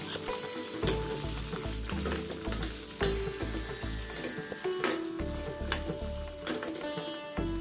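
Fistful of coriander seeds and chicken curry masala sautéing in a pan, a close, lively sizzle and crackle with scraping stirs and small clatters throughout, no talking.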